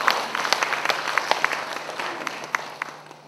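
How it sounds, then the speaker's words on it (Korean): A church audience gives a short round of applause of thanks at a Bible conference, scattered claps that thin out and fade, with a faint voice underneath. "이분들을 매일 깨워주시는 하나님께 감사의 박수를 한번 드리겠습니다."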